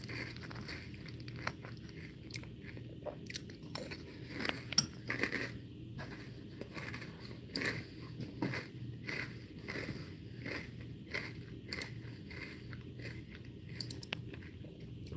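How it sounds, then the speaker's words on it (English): Someone chews a mouthful of cereal close to the microphone, making repeated soft crunches and wet chewing sounds in an uneven rhythm over a faint background hum, without talking. "You have to sit there and chew the food when you want to say something"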